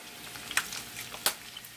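Potatoes for smothered potatoes frying in a pan, giving a steady, fairly quiet sizzle with a couple of brief sharper crackles and pops.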